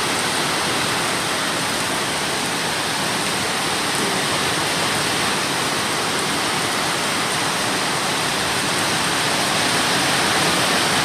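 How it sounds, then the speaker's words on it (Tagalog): A heavy, steady downpour of rain roars without letup, dense and loud throughout with no voices. "Buhos-buhos yung ulan, guys. Malakas."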